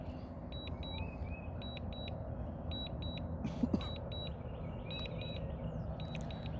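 A drone controller emits repeated short, high electronic double beeps in a regular pattern while the drone returns to home, over a steady outdoor background rumble near woods and a construction site.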